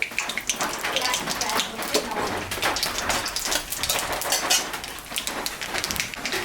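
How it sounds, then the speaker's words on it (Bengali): Dried chilli and nigella seeds tempered in hot oil for a chela fish curry give a dense, close crackle of tiny pops, continuous like rain on a surface. "লঙ্কা সম্বরা দিলাম, কালো জিরা সম্বরা দিলাম।"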